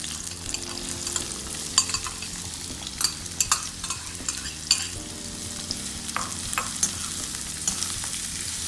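Onions hit hot oil with spices and fry with a bright, continuous sizzle, while spoon-against-pan scrapes and taps from stirring sound throughout, and no one speaks.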